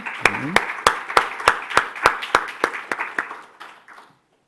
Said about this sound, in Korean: 우리 큰 박수로 하나님께 영광의 박수 올리겠습니다